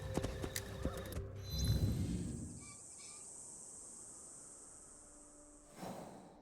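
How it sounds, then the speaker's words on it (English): A horse in the video game Assassin's Creed Shadows clops its hooves in quick steps, then snorts or whinnies, with faint insect chirps in the background and a short rumble near the end. "Get back on our horse."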